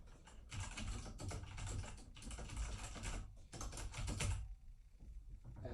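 Fingers type rapidly on a USB and Bluetooth mechanical keyboard, producing close, continuous clacking in bursts with short pauses, which thins out near the end.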